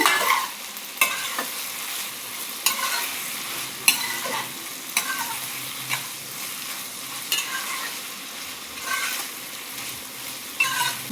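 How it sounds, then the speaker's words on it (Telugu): Pieces fry crispy in a pan with dark soy sauce, a steady close sizzle broken by regular stirring scrapes and clinks every second or so, with no voices. "చాలా క్రిస్పీ క్రిస్పీగా బాగా ఫ్రై అవుతుంది"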